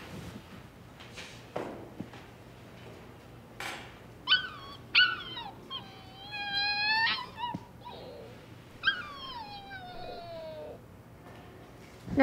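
A puppy whimpers and yips in a series of high, wavering cries, with quiet shuffling and small knocks between the bursts.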